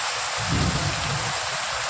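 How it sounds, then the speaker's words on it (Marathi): Heavy rain pours steadily with a dense hiss, while a low thunder rumble swells briefly beneath it. "खूप मोठा पाऊस चालू आहे"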